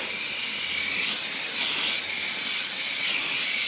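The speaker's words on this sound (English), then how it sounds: "has her steamer going" A steam cleaner working on the interior of an old farm truck, giving a steady, loud hiss that holds without a break and has no voices over it.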